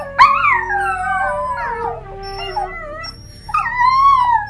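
A dachshund howls in long, wavering, drawn-out cries broken by short yips, loud and close, with no other sound around it.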